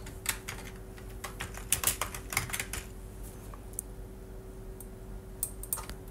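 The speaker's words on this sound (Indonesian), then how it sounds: "Oke, di sini kita ketik ID pegawai." Typing on a computer keyboard while entering data in Excel: a burst of quick, close key clicks that thins into scattered taps over a steady low hum.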